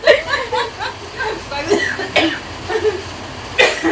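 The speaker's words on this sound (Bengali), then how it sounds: "পরে আস্তে আস্তে কাশি উঠে গেল।" An elderly woman coughs in a series of short, rough bursts spread over a few seconds, mixed with light chuckling and some voices nearby.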